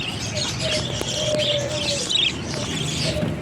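Small pet birds chirp and tweet continuously at close range around a nest box with young chicks, a busy overlapping chatter with a low murmur of cooing beneath, no talking.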